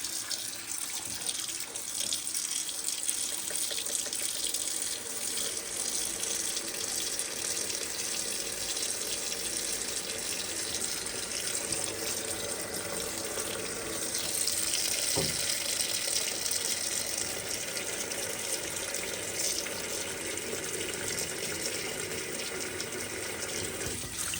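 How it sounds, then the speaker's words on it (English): Steady rush of cold tap water running into a pan of watermelon rind, continuous and close for the whole stretch, with a brief clunk midway. "Let's get some cold water in here."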